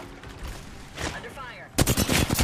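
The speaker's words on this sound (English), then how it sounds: "I am taking fire, friends." Gunfire in the Apex Legends video game, a quieter stretch with a voice briefly speaking, then a sudden burst of rapid automatic shots, loud and close near the end.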